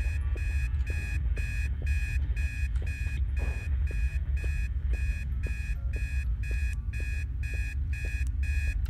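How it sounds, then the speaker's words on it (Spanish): Repeating electronic alarm clock beeps ring in regular bursts through the horror game Obsideo, steady and loud over a low droning hum. "Dale con el despertador."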